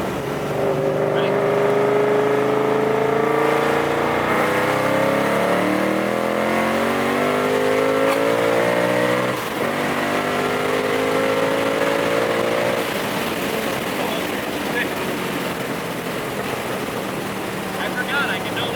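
850 HP Ford Mustang accelerating hard through the gears, a loud close engine roar climbing in pitch with each shift and a brief drop between gears, ending in wind and road rush; a voice is heard faintly under the noise.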